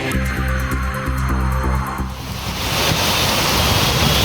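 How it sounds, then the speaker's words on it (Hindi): Heavy monsoon rain driven by strong winds in Dehradun, a dense, steady roar of rain and gusting wind that swells louder partway through, with no voices. "तेज हवाओं के साथ जो है बारिश का सिलसिला देहरादून में"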